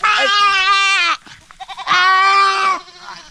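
A male goat gives two loud, drawn-out, quavering bleats close by, each lasting about a second, with a short gap of faint rustling between them.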